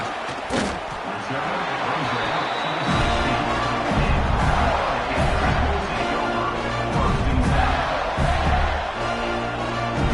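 A football stadium crowd roars steadily at an NCAA kickoff, a dense, loud wash of cheering that holds for about ten seconds with a few sharp thumps at the start and no clear talk on top.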